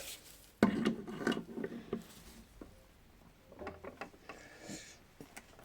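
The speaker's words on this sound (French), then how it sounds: "Je vais essayer de le desserrer avec la pince multiprise du coup." Metallic clanks and scraping taps as multigrip pliers work loose a rear brake caliper part on a Fiat Stilo, a loud clatter early on followed by quieter irregular knocks and rattles, close by.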